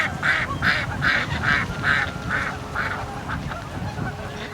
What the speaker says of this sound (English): Can you quack like a duck?